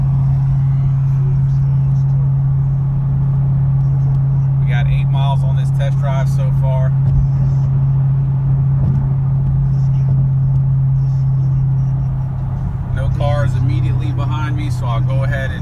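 A Cadillac CTS-V wagon cruising on a road test drive, its engine and road noise a constant low drone with a steady hum beneath, while someone talks over it.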